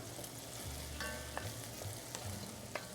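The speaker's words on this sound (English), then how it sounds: "we're going to add a little bit of butter. It's 3 tablespoons of butter. We're going to let that melt." Three tablespoons of butter melting in a pot over low heat give a soft, steady sizzle with a few faint clicks, close and alone.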